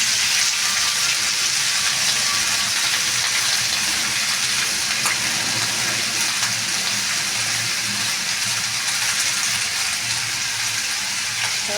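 Potato and pumpkin pieces fry in hot oil, giving a dense, even, continuous sizzle with no talking, close and fairly loud throughout.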